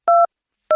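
Two tones from a telephone keypad being dialed, close and clean. Each is a short dual-tone beep, and a brief silence separates them.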